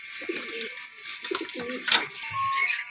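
Pigeons coo in low soft bursts around a loft and its boxes, several calls close by over a steady background hiss, with brief louder rustling partway through.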